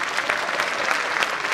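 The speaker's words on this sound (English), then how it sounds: "Can we clap louder for them?" Dense, even applause from an audience at a school annual function, a continuous crackle of many hands clapping with no voices over it.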